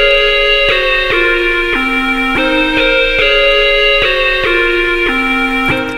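Bright, buzzy synth lead from the free Vital plugin in FL Studio, playing a loud sustained melody of stepped held notes at 144 BPM, alone with no drums or voices.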